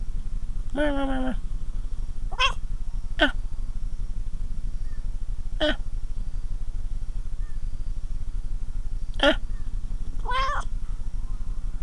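A cat meows several times, short harmonic calls spaced irregularly over a steady low hum, close and fairly clear.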